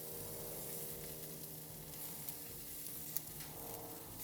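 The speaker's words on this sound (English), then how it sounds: "Listen to the sizzle, the flare-ups of course from the smoke wood" Bacon-wrapped steak bites sizzle steadily on a barbecue over smoke wood, a faint continuous hiss and crackle with occasional small pops from flare-ups.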